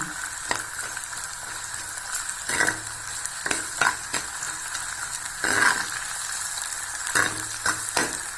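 Garlic and onions sauté in a pan for a tamarind curry, a steady sizzle broken by several scraping strokes of a spoon across the pan at irregular intervals.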